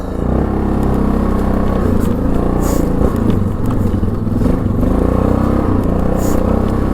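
A 2002 Yamaha Grizzly 660 ATV churns off-road through sticks and brush, its engine rumbling loud and close with shifting revs, clattering and scraping from the terrain.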